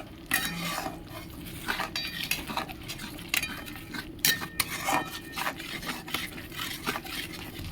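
A spoon scraping and clinking against a metal pan while ground turmeric, cumin and coriander are stirred into a poppy-seed curry with potato and pointed gourd, irregular close knocks over a soft sizzle.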